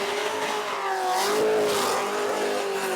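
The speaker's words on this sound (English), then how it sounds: "Got some really steady revs, good throttle control going here" A blown, injected Cleveland V8 burnout car at a Western Australian burnout competition holds steady, loud revs, one continuous, even engine roar with slight swells under controlled throttle.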